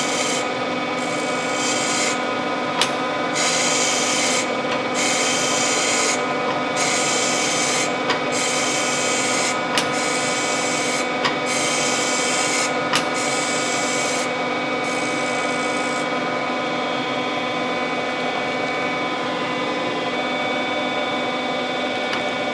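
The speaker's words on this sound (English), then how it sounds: "I'll get the machine fired back up, and then we'll start grinding." Surface grinder wheel grinding straight edge castings, a steady continuous abrasive rasp with a machine hum beneath, its high hiss rising and dropping in regular passes as the table traverses, close and alone.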